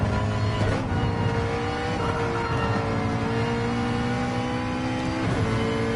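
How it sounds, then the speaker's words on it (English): Race car engine in a PS4 racing video game, revving hard with a steady high-pitched whine that holds and shifts slightly throughout, loud and continuous. "Really working that car hard, and he is Chuck chasing down Chan for that 7th spot."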